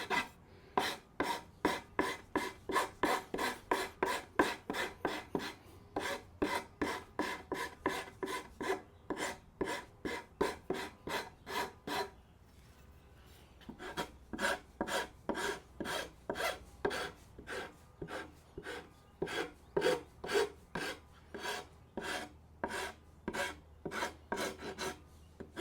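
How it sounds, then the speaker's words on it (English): A hand file rasps against a wooden workbench leg in a steady run of close, even strokes, briefly pausing partway before the rhythmic filing resumes. "Let's hit it with the file."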